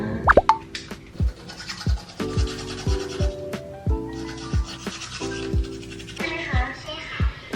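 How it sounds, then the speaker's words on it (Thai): Teeth brushed with a toothbrush at night, heard as short rhythmic scrubbing strokes, close and fairly loud, with soft tonal clicks and knocks between them. "แปรงฟันกันนะคะ"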